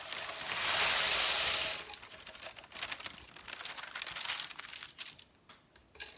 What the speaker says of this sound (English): pour those into the Ninja.